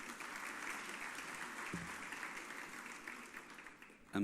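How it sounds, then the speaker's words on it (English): Audience applause at the HRI Awards 2013 ceremony, a continuous, fairly faint clapping wash that holds steady before a brief louder sound at the end. "Give her a round of applause."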